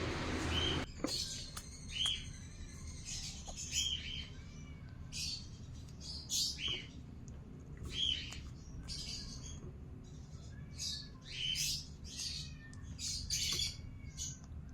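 A green cheek conure chirps repeatedly while being hand-fed formula, with short bright calls and squawks arriving in bursts close to the microphone over a steady low hum.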